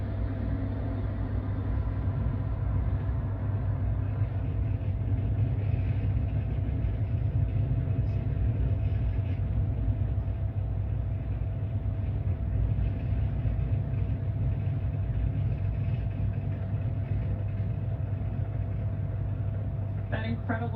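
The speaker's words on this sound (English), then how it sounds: "Falcon 9 has successfully lifted off from pad 40" A SpaceX Falcon 9 rocket lifting off from pad 40 produces a continuous, heavy low rumble that holds steady and loud throughout, with a faint crackle near the end.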